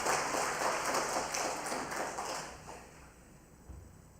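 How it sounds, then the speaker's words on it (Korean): Church congregation clapping in welcome during a Sunday morning service, a dense burst of applause that fades over a few seconds into a quiet room. "우리 환영의 박수 한번 칠까요?"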